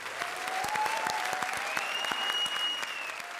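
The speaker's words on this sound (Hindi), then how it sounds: "जोरदार तालियां हो जाएं।" Studio audience applause at a televised comedy show, a steady wash of clapping held at moderate level for a few seconds with a few tonal squeaks or whistles riding over it and no talk.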